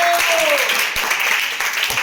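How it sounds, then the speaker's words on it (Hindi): Students in a Hindi-medium maths classroom clap together, a dense, steady patter of many hands filling the short moment, with a teacher's voice briefly audible over the start. "वेरी फाइन, ताली बजाओ।"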